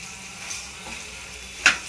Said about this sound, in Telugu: వేయించి పెట్టుకున్న కాకరకాయలు అందులో వేసి కలుపుకోవాలి.